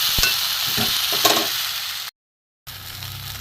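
Okra curry with spices stir-fried in a pan gives off a steady sizzle with a few scraping stir strokes, cut by a brief gap of silence before the frying resumes.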